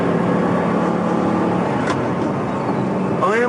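An Audi R8's 4.2 litre V8 drones steadily from inside the cabin at speed, a smooth continuous engine note with faint harmonics, no voices over it.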